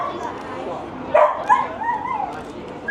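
Several small dogs yap and bark in short bursts nearby, set off by a passing greyhound, with a person talking over the barking.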